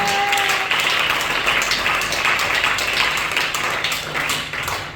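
A church congregation breaks into loud, sustained applause and cheering, a dense wash of clapping filling the room for several seconds before tapering slightly.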